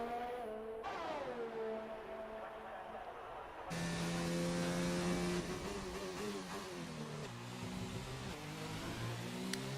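Renault race car with a yellow banana-themed livery lapping in an Xbox racing game at Abu Dhabi, its engine note rising and falling through gear changes, steady and fairly loud throughout.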